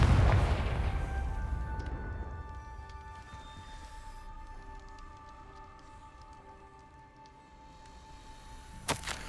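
Confringo explosive spell cast in the Hogwarts Legacy video game: a loud burst at the start that decays into a ringing, humming magical tail, with a sharp crack near the end.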